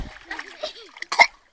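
Koi fish splash in water, a short, sharp splash near the end of a brief stretch, with a voice and other talk around it.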